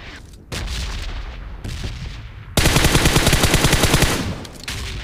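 BGMI / PUBG Mobile gunfire: a few separate loud shots, then a sustained rapid burst of automatic fire that runs for about two seconds before trailing off.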